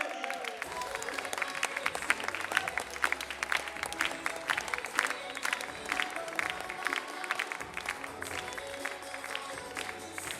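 Steady audience applause at a poetry slam as a performer is called to the stage, a dense sustained patter of many hands clapping throughout.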